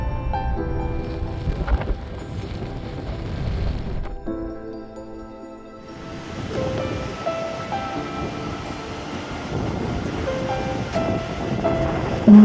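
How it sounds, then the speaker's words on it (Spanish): Roaring waterfall in Iceland dropping over 60 metres, a loud broadband rush of falling water that dips briefly in the middle before returning at full strength, with no talk. "Un muro de agua de más de 60 metros cae frente a nosotros"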